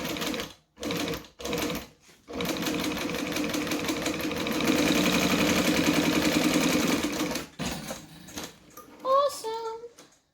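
Sewing machine stitching fabric for a bag, opening with short separated bursts of stitching, then a long steady run, with a voice talking briefly near the end.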